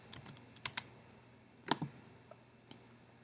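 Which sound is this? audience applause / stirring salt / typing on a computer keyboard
typing on a computer keyboard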